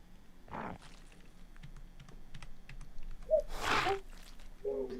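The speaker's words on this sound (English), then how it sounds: "Y'all don't usually get to hear my, my keyboard." Computer keyboard clicks come in scattered light taps, close and quiet, with a couple of louder bursts and soft background noise from an online game setting.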